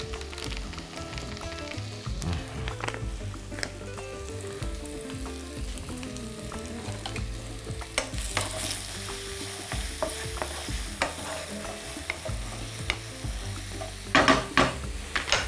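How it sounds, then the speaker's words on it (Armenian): Onion sizzles in a pan for a burrito filling while a utensil stirs and scrapes it in irregular strokes, close and continuous over about fifteen seconds with no talking. "Մինչ սոխը տապակվում է"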